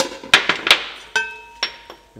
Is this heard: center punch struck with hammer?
yes